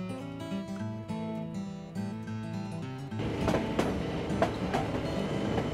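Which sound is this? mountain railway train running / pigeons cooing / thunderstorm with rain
mountain railway train running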